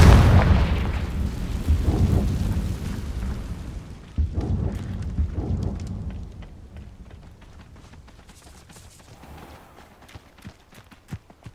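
Repeated booming blasts of the Confringo spell in Hogwarts Legacy, a heavy rumble at the start followed by another explosive hit around four seconds, decaying into scattered clicks and faint impacts.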